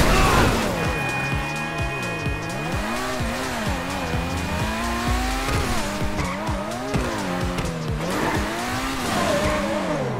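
An Overflod Autarch supercar in GTA 5 Online roars steadily throughout, its engine pitch rising and falling with gear changes and bursts of tire squeal as it races, loud and continuous with no talk over it.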